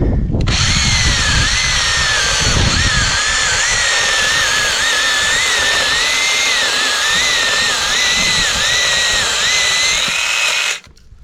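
A battery-powered mini saw runs continuously as it cuts, giving a loud, close, steady whine with a slightly wavering pitch for about ten seconds before stopping abruptly.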